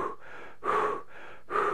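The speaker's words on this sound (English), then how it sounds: "hyperventilating is not only breathing rapidly" A person demonstrates hyperventilating: rapid, forceful breaths alternating in and out, about four quick gasping breaths close to the microphone with no talk.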